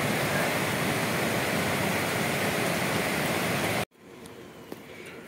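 A large river in a rural village rushes as steady, broadband flowing water for several seconds, then cuts abruptly to a much quieter, distant wash of water with faint background sounds.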